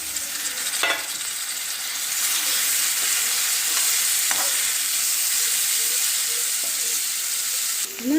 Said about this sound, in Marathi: नंतर कारली घालून परतून घ्यायचे.